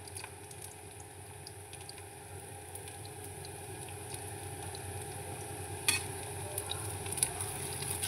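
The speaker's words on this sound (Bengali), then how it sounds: "দেখো এতেই আমার সব বড়া ভাজা হয়ে যাবে" Coconut vada fries in oil in a wok with a steady, close sizzle and soft bubbling, broken by a sharper spatter near the six-second mark; no voices.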